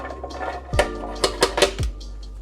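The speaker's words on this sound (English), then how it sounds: "the first thing we're gonna add into our high-speed blender or food processor are cashews" Cashews dropped into a high-speed blender jar, a few hard clattering knocks and rattles in quick succession, close and fairly loud, with no talking.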